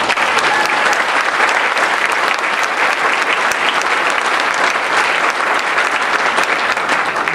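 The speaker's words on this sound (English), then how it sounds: "Let's give a round of applause to the staff." A loud, dense round of applause from a campaign kickoff audience in a Palm Beach County hall fills the whole stretch, steady and close with no talk.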